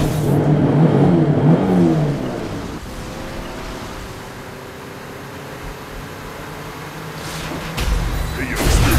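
Engine revving up in the Mobile Legends game, with a loud burst of acceleration at the start that fades into steady whirring noise before picking up again near the end.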